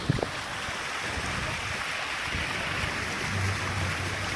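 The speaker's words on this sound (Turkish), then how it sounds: "Evet güzel bir Şelale yapmışlar buraya." Artificial waterfall on a seashore promenade at Darıca, a steady broadband rush of falling, flowing water that continues without a break.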